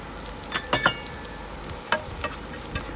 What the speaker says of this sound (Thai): พอเขามีกลิ่นหอมแล้วเราก็ใส่เต้าหู้ลงไปค่ะ